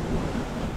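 Big rolling Southern Ocean swell off the South African east coast, heard as a steady, loud broadband wash of water and wind noise at sea in fog and light rain, with no talk.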